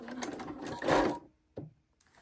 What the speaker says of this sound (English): And on a back stitch, I'm going to clip that off and stick some fray check on there.